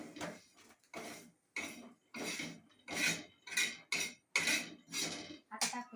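Roasted coconut is scraped out of a metal pan: a series of about nine short, distinct metallic scraping strokes of a spoon against the pan, close up, with brief pauses between.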